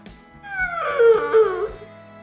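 A dog in a custom garage shop gives a single drawn-out whining howl that rises and then tapers off over about a second, close and fairly loud.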